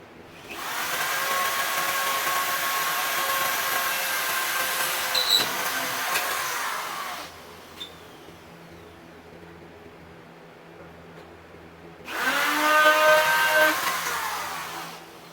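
A handheld power drill whirs steadily for about seven seconds, stops, then spins up again for a shorter burst, running close in a garage with no talking.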